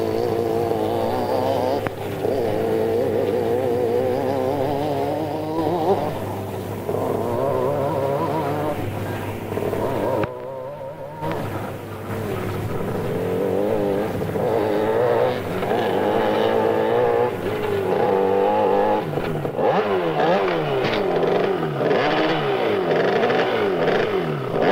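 Schoolboy scrambling motorcycles race in practice in 1974, loud two-stroke engines revving and droning continuously with shifting pitch as bikes pass, briefly dipping before roaring up again.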